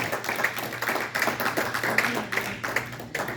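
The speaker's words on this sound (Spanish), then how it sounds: "Dale un fuerte aplauso a tu Dios en esta noche" Church congregation giving loud applause at a night service, dense overlapping hand claps with a few sharper accents, close and sustained, no speech over it.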